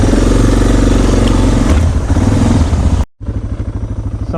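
A motorcycle rides toward the Guatemala border, its engine loud and close with a rough, clattering throb that briefly cuts out before resuming in a pulsing idle-like rhythm.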